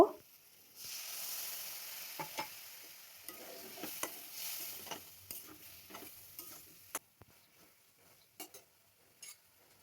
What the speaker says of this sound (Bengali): মশলাটাকে ভালো করে কষানোর জন্য অল্প জল দিয়ে দেব।